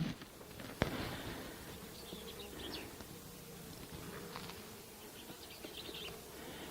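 Honeybees from a five-frame nuc colony buzz around as its frames are moved into a permanent hive, a dense, steady hum with individual bees droning past up close and a sharp click of equipment near the start.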